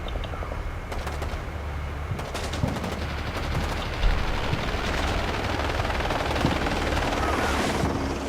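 Sustained gunfire in the video game Combat Mission Shock Force crackles over a steady helicopter-like rotor drone, dense overlapping shots with an occasional louder crack, all at a fairly even moderate level.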